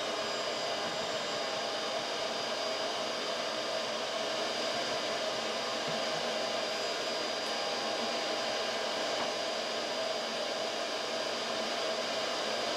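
A vacuum cleaner drones loudly and continuously as it sucks yellow jackets out of a wasp nest at an old 1800s farmhouse, a steady whining roar with no pauses or voices.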